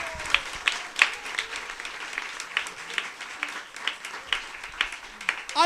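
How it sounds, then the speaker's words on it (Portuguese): Congregation inside a Catholic church applauding, a sustained patter of many hands clapping at a steady moderate level with occasional sharper claps, no speech over it. "Aplaude, Senhor."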